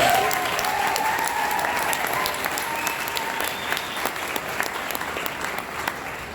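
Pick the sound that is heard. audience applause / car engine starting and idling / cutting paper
audience applause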